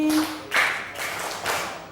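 A classroom of young students clapping in unison, four broad group claps at an even pace of roughly one every half second, fairly loud and echoing in the room, with a brief voice at the start.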